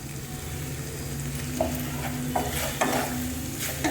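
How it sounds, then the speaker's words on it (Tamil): Paneer stir-fried in a pan for pepper paneer, a steady sizzle running throughout with several sharp scrapes and clacks of a spatula stirring the cubes, close and moderately loud, with no talking. "இந்த பன்னீர் வந்து நல்லா சாஃப்ட் ஆகிற வரைக்கும் இப்படி போட்டு பரட்டி எடுத்துக்கலாம்"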